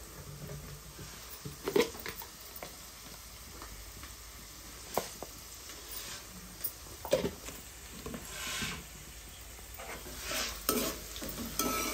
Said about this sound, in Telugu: ఉల్లిపాయలు అయితే కొంచెం వేగాలి.